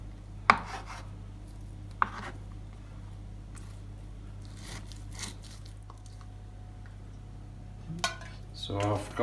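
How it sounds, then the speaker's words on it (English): A knife roughly chops fatty meat into chunks on a board for an outdoor cast iron chiminea meal, giving a few sparse, sharp knocks with light scraping between them. "I'm going to roughly chop it into chunks before frying it."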